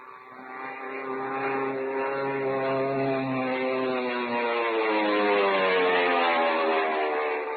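Steady droning propeller engine hums continuously, its pitch slowly shifting, loud and close throughout with no pauses.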